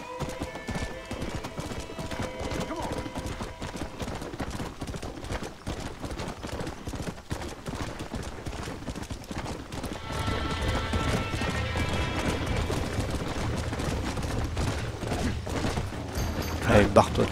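A horse in Red Dead Redemption clip-clops at a steady pace, with a whinny and scattered gunshots mixed in as the hoofbeats grow fuller and louder toward the end; game effects and talk sit underneath.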